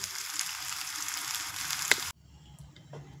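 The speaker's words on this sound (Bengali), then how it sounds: "একদম আস্তে করে নাড়তে হবে, আর লক্ষ্য রাখতে হবে তলায় যাতে ধরা না লেগে যায়।" Mango pickle cooking in a pan with melted jaggery and sugar, a steady close sizzle while being stirred, one sharp scrape, then the sizzle abruptly drops to a quiet low simmer for the last second.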